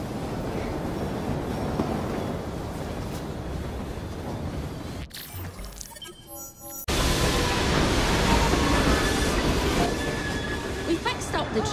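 A steam-era train rumbles steadily along the tracks in Assassin's Creed Syndicate, with wheels clattering and squealing; a brief quieter break midway, then the loud rolling resumes close by.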